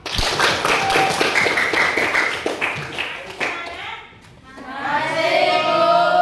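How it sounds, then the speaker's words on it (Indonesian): Students in a classroom clap for all the groups, a burst of quick, close hand claps that thins out after a few seconds as a voice starts talking. "kita tepuk tangan dulu untuk semua kelompok"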